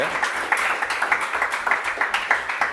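Audience applause with steady, rhythmic clapping at a lively rate, moderately loud and continuous throughout, with some voices mixed in underneath.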